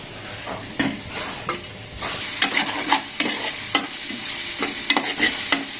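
Chopped onions fry in a hot pan and are stirred, giving a steady sizzle broken by repeated scraping strokes of the spoon, close up and with no voices.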